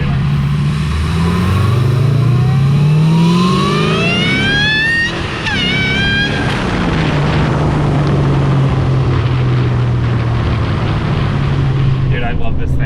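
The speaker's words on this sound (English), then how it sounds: "It's loud inside the car." A Honda S2000 with a swapped LSA V8, heard from inside the cabin, roars loudly as rising rev sweeps climb, drop back, then settle into a steady drone, with voices talking over it.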